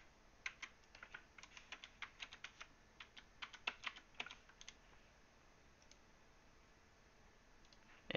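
Typing on a computer keyboard, a quick burst of light key clicks for about five seconds, then quiet with a couple of stray taps near the end.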